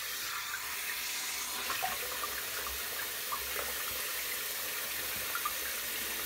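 A bathroom tap runs steadily to wet the face before a shave with a Number 99 injector razor, a close, even stream of water with faint splashing throughout.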